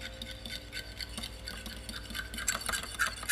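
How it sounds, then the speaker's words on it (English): A fork whisks eggs in a bowl with rapid, continuous light clicking and tapping, close and fairly quiet. "I usually beat my eggs with a fork"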